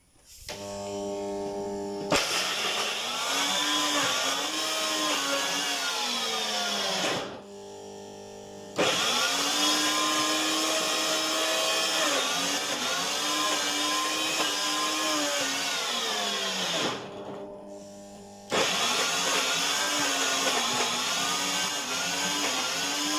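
Commercial grinder blender grinding coconut and onions, a loud whining motor drone with wavering pitch as the load shifts, running in three long bursts separated by brief stops.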